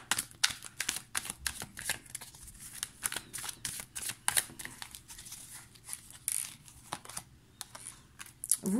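Tarot cards are shuffled close up, a rapid series of sharp riffling snaps and papery slides at uneven intervals, quiet overall with no talking.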